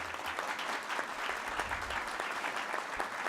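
Audience applause at a law lecture on Brazil's new civil procedure code and the labour courts: a brisk, dense wash of many hands clapping at full strength for the whole short stretch.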